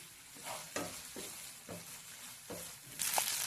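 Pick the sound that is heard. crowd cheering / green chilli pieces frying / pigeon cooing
green chilli pieces frying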